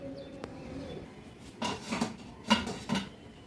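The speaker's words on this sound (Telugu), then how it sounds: "దీనికి మూత పెట్టుకుందాం" A metal lid set onto a cooking pot of homemade mandi biryani, heard as a few close metallic clanks and clatters in quick succession, with faint birdsong in the background.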